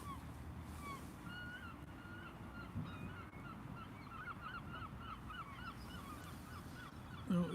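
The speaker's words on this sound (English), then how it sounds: "the seagulls are trying to come back. You can probably hear them in the background" Gulls call repeatedly over a harbour on the Lowestoft river during sea fishing, their faint cries scattered through steady low water and wind noise, with a brief louder knock near the end.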